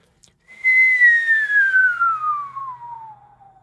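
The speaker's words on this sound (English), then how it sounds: "I'm going to do that same whistle down a tube" A whistle blown down a tube in a studio, one long tone gliding steadily from high to low pitch over about three seconds, clear and close with no talking.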